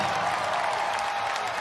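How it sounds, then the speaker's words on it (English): Concert audience applause, a soft, steady wash of clapping and crowd noise heard from some distance, with no talk over it. "A big round of applause for you"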